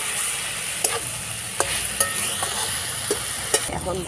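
Gime shak (water hyssop greens) frying with brinjal in a pan, a steady close sizzle broken by a handful of sharp spatula scrapes and taps spaced irregularly throughout.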